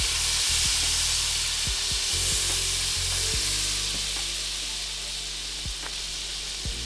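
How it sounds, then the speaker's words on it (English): A large amount of garlic toasting in a pan while cooking lemon chicken cutlets, a loud steady sizzle and hiss with a few light knocks and clicks of a utensil, no talk. "Yes, it's a lot of garlic, but it's fine. We're gonna toast it up like that."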